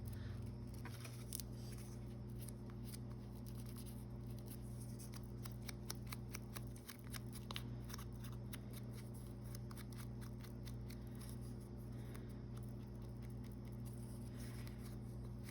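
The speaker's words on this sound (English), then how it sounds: "So I'm just going to cut around him." Scissors snip around a sepia paper doll image, making quiet, quick irregular clipping and rustling sounds over a steady low background hum, faint and close.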